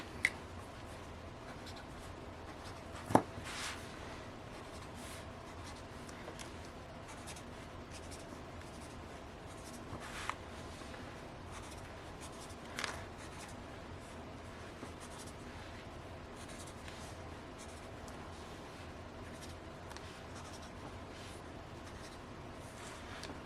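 A pen scratches softly across the paper of a journal while writing and drawing, a quiet, steady stroking with a few small taps and clicks scattered through, with no talking.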